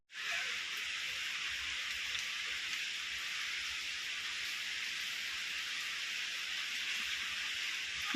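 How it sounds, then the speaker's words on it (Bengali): Steady, dense rain hiss, loud and continuous from start to finish, with no voices. "বৃষ্টি হয়েই যাচ্ছে"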